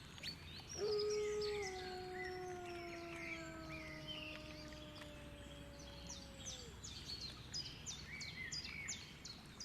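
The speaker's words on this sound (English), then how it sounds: "You can hear the birds and insects." Chirping birds and buzzing insects fill a quiet forest, while a long, wavering howl-like call rises and fades in the distance.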